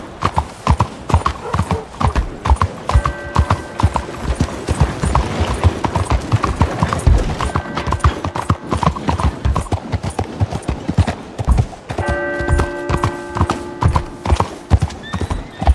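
Horse hooves clip-clop at a steady gallop in Red Dead Redemption 2, loud and close, with a few neighs and a rider's brief voice over the rhythmic pounding.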